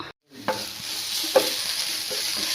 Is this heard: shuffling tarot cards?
no